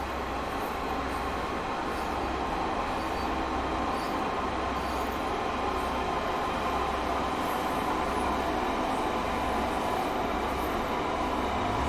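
A train runs steadily on rails on the Penzance to Truro line in Train Sim World 2, a continuous close rumble of wheels and engine drone with faint rhythmic clacks, no talking.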